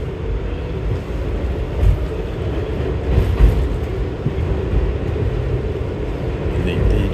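A New York subway F train on the E/F line near Long Island City, rolling through a stretch under construction, gives a loud, continuous low rumble and rattle from close by, with a couple of brief louder thumps.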